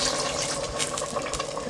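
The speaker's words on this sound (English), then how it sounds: "I'm going to add some water to the same turkey bowl" Water is poured into a bowl of raw turkey pieces while making Bahamian lima bean soup, giving a steady, close splashing and gurgling rush that runs without a break.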